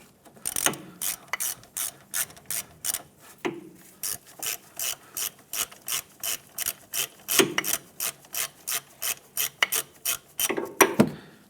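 A hand ratchet snugs wheel hub assembly bolts on a 2015–2019 Hyundai Sonata, bursts of rapid close clicking repeated in an even rhythm with brief pauses and small metallic knocks between strokes.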